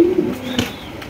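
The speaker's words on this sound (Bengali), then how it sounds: "এখানে দেখতে পাচ্ছি একজন ইয়েলো কালারের সিরাজি কবুতর।" A yellow Sirazi pigeon gives one short, low cooing call, close and clear, alone with no talking.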